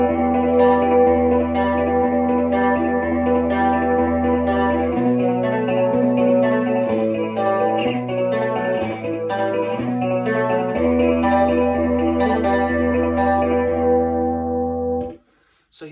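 An electric guitar rings out sustained chords and notes through echo and chorus effects, loud and continuous for about fifteen seconds before cutting off abruptly.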